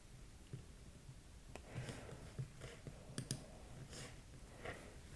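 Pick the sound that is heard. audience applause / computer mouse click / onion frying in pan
computer mouse click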